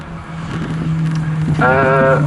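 Race car number 95 passes at Snetterton circuit during an All-Comers and ASCARS race, a close engine drone that swells into a strong harmonic whine as it goes by, under a commentator's voice.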